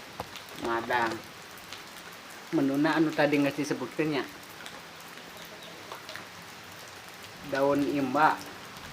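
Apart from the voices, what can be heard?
light drizzling rain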